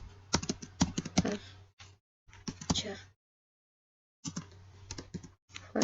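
Rapid clicking of computer keys while a database table is entered, arriving in bursts with short pauses between them and a few louder strokes, close and clear.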